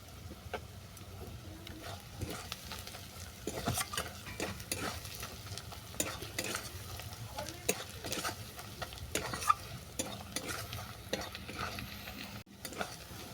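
Turmeric, chili powder and coriander powder sautéing in a hot pan for an ol shak ghonto with hilsa fish head: a steady close sizzle broken by frequent scraping stirs and clinks of a spatula, with no voices.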